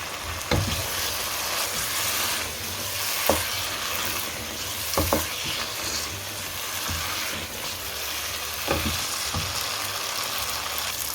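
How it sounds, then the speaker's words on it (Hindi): Potato and egg bhujia fries on high flame with a continuous sizzle, while a spoon stirs and scrapes the pan in a few sharp, separate knocks. "उसको तेज़ फ्लेम पे हम इसकी भुनाई करेंगे।"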